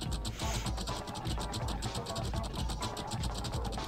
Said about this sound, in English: we're gonna be turning bolt cranks to raise bridges